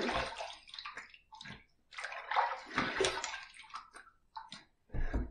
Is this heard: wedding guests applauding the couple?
no